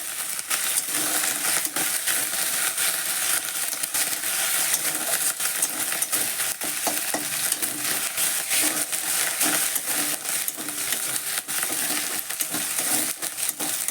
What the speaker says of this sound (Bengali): তেল গরম হয়ে গিয়েছে, গোটা জিরে দিয়েছি, এখানে পেঁয়াজ দিয়ে দিয়েছি